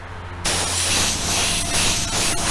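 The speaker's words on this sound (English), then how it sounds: "Rotate everything around as you spray it." An aerosol can spraying a blackish-gray base coat onto a model car body of a custom Volkswagen, a loud continuous hiss that starts abruptly after a short quiet moment and runs steadily to the end, close to the microphone.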